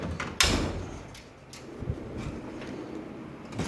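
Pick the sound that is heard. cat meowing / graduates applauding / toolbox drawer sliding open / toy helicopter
toolbox drawer sliding open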